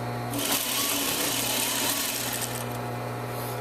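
A sewing machine stitching a seam, a steady fast mechanical whir running close and loud for a few seconds before easing off.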